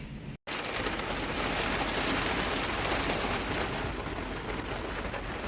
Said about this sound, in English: I got more rain tonight. Coming down pretty good